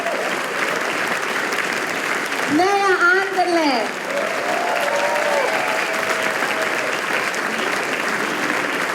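Audience applause at a music school anniversary concert in Radovljica, steady and full throughout, with a voice announcing names over the clapping.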